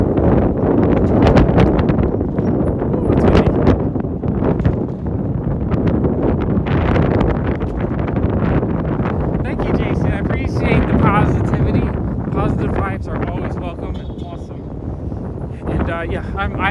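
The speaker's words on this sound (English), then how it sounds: "Ooh, it's windy." Gusty wind roars across the microphone in a Brooklyn park on a fall day, loud buffeting that rises and falls, with voices talking over it in the later part.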